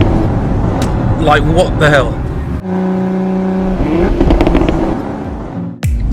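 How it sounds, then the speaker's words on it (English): A loud Lamborghini Aventador S engine revs and drops through a downshift, with a sharp exhaust bang near the end, while people talk and exclaim over it. "Even on downshift, just listen to this bang."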